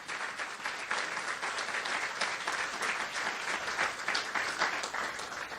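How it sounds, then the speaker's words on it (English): An audience claps steadily for Susan Enfield, the district superintendent, with dense, even applause that holds for the whole stretch at moderate distance and no voices rising above it. "yes, you can clap for Susan Enfield"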